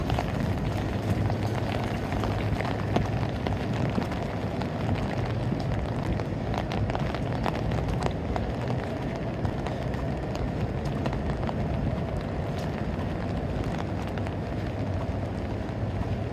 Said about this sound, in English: Now the wind does actually seem to be picking up a little bit